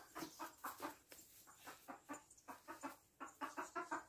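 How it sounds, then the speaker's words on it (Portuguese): Hens cluck in a henhouse set close to a house, a steady run of short, rhythmic clucks overlapping one another at moderate to faint loudness, with no talking. "Já tem algumas galinhas aí"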